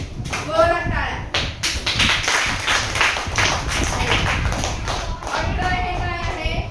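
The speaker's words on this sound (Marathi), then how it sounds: "महेशसाठी टाळ्या. असं नाही, जोरात टाळ्या." Children in a classroom clap loudly together for a classmate, a dense run of hand claps and taps over several seconds with voices mixed in.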